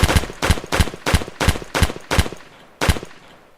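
Gunfire in a Unity first-person shooter demo, eight sharp single shots in a fairly regular rhythm with a short gap before the last, each clear and close with a brief tail.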